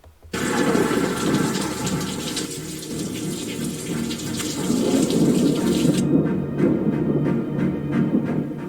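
Heavy thunderstorm rain roars steadily with a deep low rumble of thunder underneath, continuous and loud throughout, with no voices.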